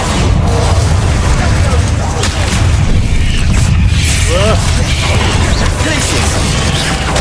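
A Bombarda blasting spell explodes in the Hogwarts Legacy video game, a dense, loud booming blast with rumbling debris that fills the whole moment, layered with game effects and a shouting voice.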